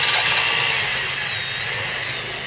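A power drill whirs steadily at close range for a couple of seconds while applying bead sealer to a tire leaking at the rim, a continuous high buzzing motor with no voices.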